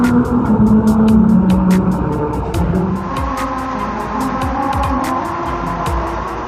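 Car tires rolling over the grooved surface of a Japanese melody road play a tonal, hummed tune under steady road and engine noise, with a rhythmic series of sharp ticks running throughout.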